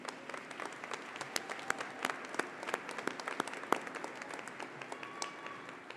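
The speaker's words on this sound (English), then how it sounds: "Let's give this dedicated team a round of applause for their continued commitment to the university" Crowd applause at a university commencement ceremony: dense, sustained clapping from many hands in a large hall, steady and moderately distant, with no speech.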